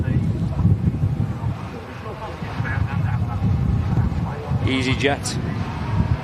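Heavy wind howls and buffets outdoors in Flintshire during stormy conditions, a rough continuous rumble pressing on the microphone while a person talks over it.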